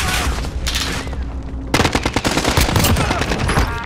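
Gunfire in Call of Duty: Modern Warfare, dense overlapping shots that turn into a fast, loud burst of automatic fire.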